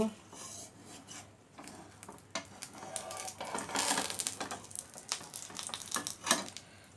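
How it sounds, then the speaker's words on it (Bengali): A spatula scrapes and clinks against a pan while an egg is flipped, giving a run of faint metallic scrapes and taps with a few sharper clicks, close by and without talk. "এখন আমি ডিমটা উল্টিয়ে দিব।"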